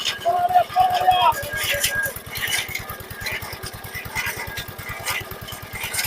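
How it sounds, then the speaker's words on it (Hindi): Engine driving a sugarcane crushing machine used to make jaggery, a steady rapid chugging thump that runs throughout at close range, with brief talk near the start. "फिर इसको ये मशीन को चलाएंगे, इंजन को"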